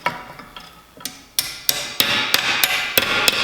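Hammer blows pounding metal tines into a lawn edger during repair in a workshop, about a dozen sharp, ringing metallic strikes that grow louder and more regular, close and alone with no talk.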